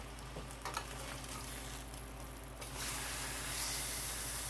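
Pork chops browning in an electric skillet, a low steady hiss and sizzle that swells louder toward the end, with a faint tap or two and no talking.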